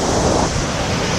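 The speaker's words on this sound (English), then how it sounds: "Look at the waves." Ocean waves crash and churn at Broken Beach on Nusa Penida, a loud, continuous roar of surf with steady wind noise buffeting the microphone and no pause throughout.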